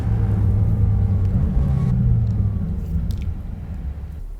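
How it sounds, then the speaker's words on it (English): A new 2021 VW Golf GTI on a race track gives off a low, steady engine rumble heard from inside the car, which eases slightly toward the end. "To charge up, especially when you're driving the new GTI."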